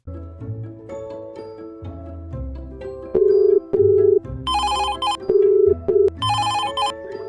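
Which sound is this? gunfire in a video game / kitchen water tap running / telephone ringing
telephone ringing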